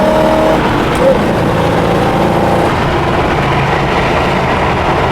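A 1975 Chevrolet Camaro LT engine drones steadily at 60 mph and about 2,400 RPM in fourth gear, a continuous close rumble with faint road noise and a brief voice near the start.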